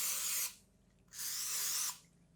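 Two bursts of cooking spray coated onto a mini waffle maker for keto pumpkin waffles, each a close, soft hiss lasting about half a second to a second, with a brief pause between.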